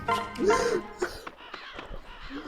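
A Storm of Crows attack in Fire Emblem Awakening brings harsh crow caws, a few loud rasping calls close together, mixed with game effects and an excited voice talking over them.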